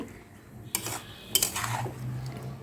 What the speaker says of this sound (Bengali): এখন ভালো করে নাড়িয়ে নেব মানে মশলাটাকে ভালোভাবে সবজির সাথে মাখিয়ে নেব